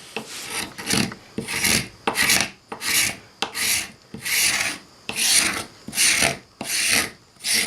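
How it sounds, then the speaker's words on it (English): A paint scraper rasps glue off a wooden coffee table in about a dozen quick, evenly spaced strokes, close and scratchy, with no talk. "if you get yourself a paint scraper"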